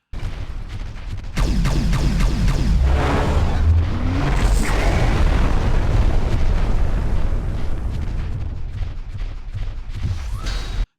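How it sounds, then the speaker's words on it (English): Enemy mechs in the Xbox game MechAssault blow up in loud, booming explosions with rumbling debris and crackling blasts, a sustained barrage running through most of the stretch without speech. "When enemy mechs explode, they give off an earth-shattering explosion that just feels good to hear."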